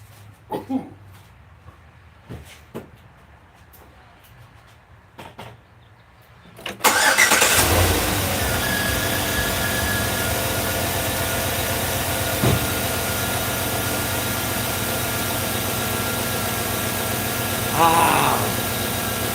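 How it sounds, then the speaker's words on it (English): An old GM LS V8 engine in a car cranks and catches abruptly in a garage, then settles into a loud, steady idle that runs on, after a few quiet knocks and clatters. "Old GM LS engine."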